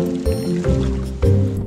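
Water pours into an indoor pool holding two broad-snouted caimans, close and continuous, with gurgling, sloshing surges and drips over a steady low rush.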